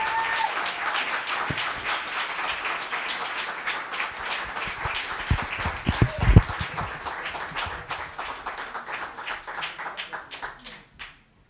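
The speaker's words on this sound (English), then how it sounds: "please give a nice warm welcome to Howard Levy, Larry Gray, and Miles Levy" Warm audience applause welcoming jazz musicians at a live lounge show, individual claps distinct and fairly close, swelling in the middle and tapering off to silence at the end.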